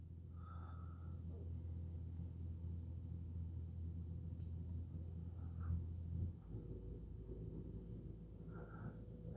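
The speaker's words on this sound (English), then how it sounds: "Hear a fan running now in the car that wasn't running before." Chevrolet Blazer EV parked while charging, a low steady whirring drone from the cooling fan that continues unchanged for several seconds, faint and close, with a few soft incidental sounds on top.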